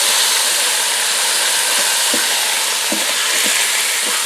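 Ground beef sizzles in a little oil inside a Ninja Speedi while it is broken up, giving a loud steady hiss of frying with a few soft scraping knocks of the utensil against the pot.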